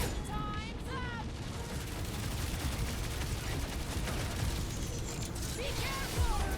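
Dense gunfire from Marvel's Guardians of the Galaxy on PS5, a steady barrage of rapid shots and impacts filling the scene with busy combat noise, while character voices and chirping sound effects break through at moments.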